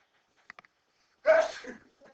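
A single sharp sneeze bursts out close by, preceded by a few faint clicks and followed by a short trailing breath.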